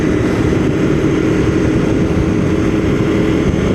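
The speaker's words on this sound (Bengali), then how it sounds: "চলো বাইক স্টার্ট দেওয়া যাক।" A KTM ADV250 adventure motorcycle engine drones loudly and continuously while riding along a road, a dense steady roar with wind noise and no speech.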